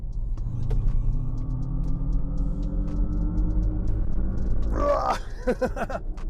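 2024 GMC Hummer EV, a soft-sprung 4.5-ton electric truck, pulling away under hard throttle: a steady low drone with a rising whine that builds, then brief clattering bursts near the end.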